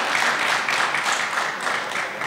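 Audience applause at a winter workshop talk, a steady broadband patter of many hands filling the whole stretch at moderate loudness with no voices over it.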